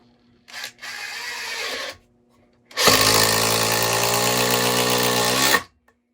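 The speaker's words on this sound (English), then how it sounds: "Speed 4, Makita XGT 40 volt." A Makita XGT 40 volt impact driver runs at speed 4 in two bursts: a shorter whirring run, a pause, then a longer, louder, rattling hammering drive that cuts off abruptly, close and without talk.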